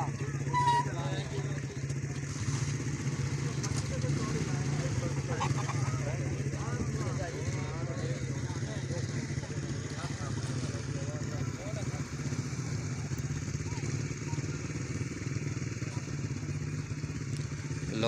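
A motorcycle engine runs steadily on a river crossing of the Chenab, a continuous close drone with clatter over a noisy outdoor background.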